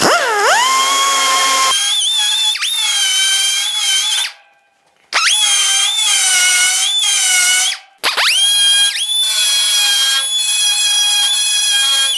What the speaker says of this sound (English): Let's get the burr tool over here, clean it up, see how we did.